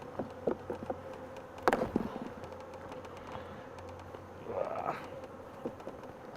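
Honey bees hum and drone around an open hive as a frame is lifted out, a steady close buzz with occasional louder passes of individual bees near the listener.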